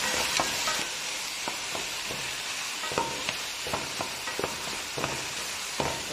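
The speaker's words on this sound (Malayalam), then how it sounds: "കോഴിയിറച്ചി നുറുക്കിയിടുക." Chopped chicken pieces fry in a hot pan with ginger, garlic and onion, a constant close sizzle broken by repeated scraping clacks of a spoon stirring, with no voices.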